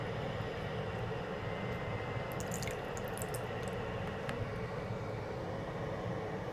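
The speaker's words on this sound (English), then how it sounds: "First of all, we feel its noise." A small 160-model 6V DC mini water pump runs with a steady, quiet motor hum, with faint splashes and drips over the top.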